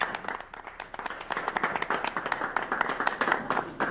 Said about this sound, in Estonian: Plaksud tuli.